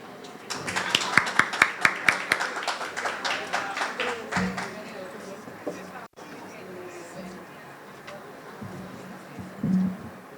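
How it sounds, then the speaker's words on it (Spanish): An audience applauds to welcome a guest doctor at a medical lecture, a burst of sharp claps for about four seconds that quickly thins out, followed by quieter room noise. "le damos la bienvenida con un fuerte aplauso"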